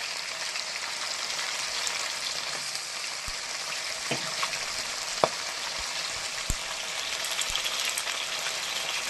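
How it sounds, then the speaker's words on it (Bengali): Fish pieces frying in a pan a few at a time, a dense continuous sizzle with a few faint clicks and taps of utensils, steady and close, with no talking. "অল্প অল্প করে ভাজবো, নাহলে অসুবিধা হয়"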